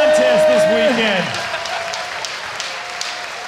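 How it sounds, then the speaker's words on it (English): Crowd at the Tampa Pro 2018 skateboarding contest finals applauding, loud clapping and cheering under an amplified announcer's voice at first, then continuing more quietly once the voice drops away. "Give him one more round of applause, everyone!"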